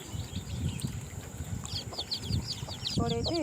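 Soft chirping of chicks and a short cluck from their mother hen nearby in a village, over a steady outdoor background with faint talk.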